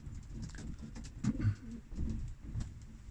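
Soft, low cooing of young racing pigeons close by, a few gentle warbling calls rising and falling in a quiet loft.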